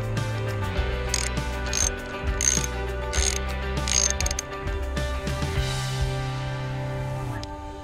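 A ratcheting wrench clicks in quick bursts as it works a 10 mm nut at the gear cable of a 1990 Mercury outboard, close and fairly loud, with short pauses between strokes.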